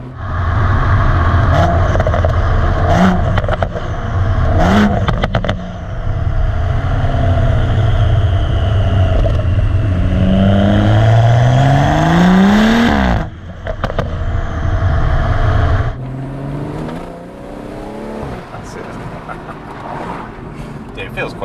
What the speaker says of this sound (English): There's a lot more turbo whistle.